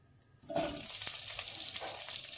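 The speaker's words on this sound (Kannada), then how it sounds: "ಇದಕ್ಕೆ ಸ್ವಲ್ಪ ಆಯಿಲ್ನ ಸೇರಿಸ್ಕೊಳ್ಳೋಣ ಈಗ ನಾವು ಕಟ್ ಮಾಡಿಟ್ಕೊಂಡಿರೋ ಬೆಂಡೆಕಾಯಿ ಸೇರಿಸಿ" Chopped okra dropped into hot oil in a pan, bursting into a loud, steady sizzle with crackles and stirring scrapes that continue throughout.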